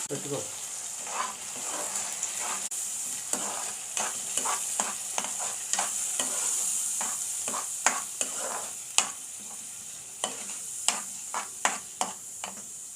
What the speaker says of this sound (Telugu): ఇప్పుడు ఉల్లిపాయలు ఈ విధంగా గోల్డెన్ బ్రౌన్ కలర్ వచ్చిన తర్వాత ఇందులోకి తయారు చేసుకున్నటువంటి ఉల్లిగడ్డ కారాన్ని వేసుకుందాం